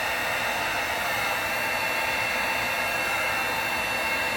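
Heat tool blowing a steady broadband whoosh over alcohol inks on an epoxy surface, held about six inches away; continuous and close with no talking.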